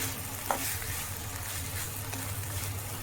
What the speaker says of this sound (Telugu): దోసకాయ ముక్కలు వేగిపోయినాయి